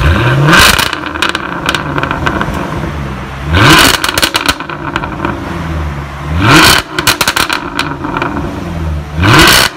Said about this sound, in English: Going for a freaking spin in a supercar